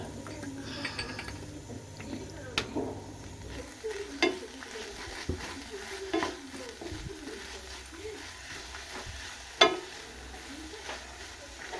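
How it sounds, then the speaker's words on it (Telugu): Chopped coriander is stirred into a moringa leaf and moong dal curry in a pan, soft scraping and occasional spoon clinks against the vessel over a faint sizzle, close and quiet. "ఇప్పుడు లాస్ట్లో కొత్తిమీర వేసి కలపాలి."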